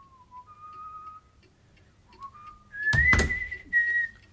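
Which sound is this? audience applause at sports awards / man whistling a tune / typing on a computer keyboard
man whistling a tune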